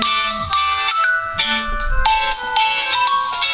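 An Aiwatch P360 smartwatch, an MTK2502A Moto 360 clone, rings with an incoming test call: a bright, melodic ringtone of repeated chiming notes plays steadily and clearly, close up, with no voices over it.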